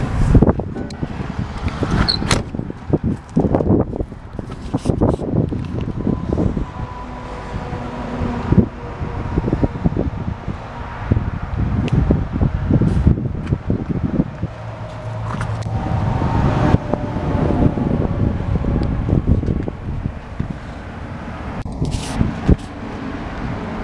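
Cummins diesel in a 2012 Kenworth T440 with Allison automatic, running at idle: a steady, loud low rumble with some mechanical knocks and wind buffeting, no talking.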